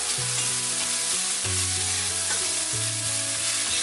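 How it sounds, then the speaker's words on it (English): Chopped onions sauté in olive oil in a pan over medium heat, giving a steady close sizzle broken by a few clinks and stirring scrapes. "Saute the onions."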